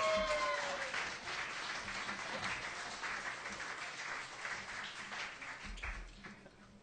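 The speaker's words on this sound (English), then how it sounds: "One more round of applause," Audience applause for a band at an Irish music awards event, a steady dense wash of clapping that holds throughout at moderate level, easing slightly toward the end.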